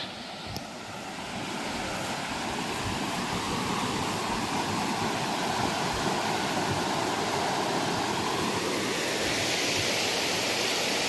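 The River Dane near the Roaches in the English countryside rushes steadily and loudly, a dense unbroken roar of flowing water close by with no talk.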